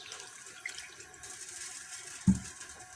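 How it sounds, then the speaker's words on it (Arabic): Water poured from glasses onto sugar in a cooking pot, giving a faint running trickle with a brief louder splash near the end, quiet and close with no talking. "غنضيفوا عليه ان شاء الله 2 كيسان ديال العنبه ديال الماء"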